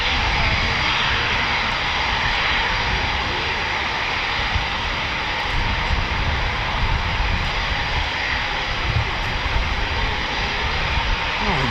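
Eurofighter Typhoon FGR4 jets at RAF Coningsby produce a loud, continuous broadband engine roar that holds steady for the whole stretch, with faint voices underneath.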